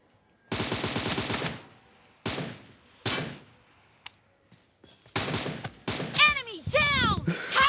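Gunfire in PUBG Mobile, loud bursts of automatic rifle fire in several separate volleys with short gaps, followed by ringing impact and ricochet sounds, close and dominant throughout.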